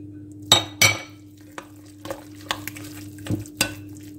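A utensil stirs and mixes two eggs into ingredients in a bowl with olive oil, for homemade turkey or chicken mortadella with olives. Sharp clinks and scrapes knock against the bowl at irregular intervals in a quiet kitchen.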